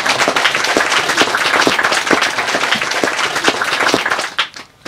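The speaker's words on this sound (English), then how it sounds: "Now you can clap for yourself." An audience claps at a talk about restoring the planet through constructive work, loud and continuous with individual claps standing out, then tapering off abruptly near the end.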